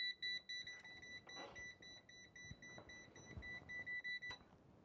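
A rapid series of high electronic beeps from a Klein voltage tester pulses repeatedly while testing a GFCI outlet, then stops, with faint handling noises underneath.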